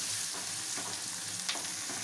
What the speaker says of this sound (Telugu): ఇది దోరగా ఫ్రై చేసుకోవాలి.